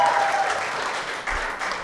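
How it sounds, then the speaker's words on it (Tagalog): A church congregation claps together in a sustained burst of applause at a Christian fellowship service, steady and fairly loud throughout with no voices over it. "Pwede bang pumalakpak ng malakas yung mga taga-Laguna?"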